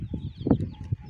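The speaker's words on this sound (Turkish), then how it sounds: "7 tane tavuk, 7 tane horoz" Village chickens and roosters clucking close by in a short burst of several soft, uneven clucks.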